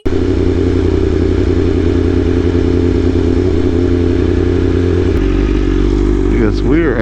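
BMW M1000RR full carbon fiber superbike ridden on the street, its engine a loud close droning hum that shifts pitch near the end as the rider revs, with a voice talking over it.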